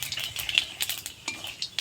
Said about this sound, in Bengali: সেই পটল ভাজা তেলের মধ্যে একটু 5 ফোড়ন দিয়েছি, ফোড়নটা ভাজা ভাজা হয়ে আসলে